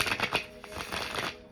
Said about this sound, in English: I started shuffling the cards